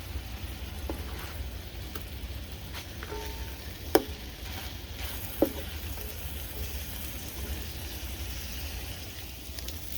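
Beef patties fry in an Amazon Basics XL cast iron skillet on an outdoor stove in cold air, a steady low sizzle and crackle with a couple of sharp clicks or taps, no voices.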